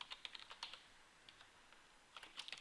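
Quiet, close typing on a computer keyboard, a few quick uneven bursts of light key clicks with short pauses between them.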